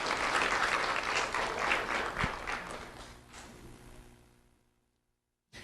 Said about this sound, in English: Round of applause for Grace Christensen.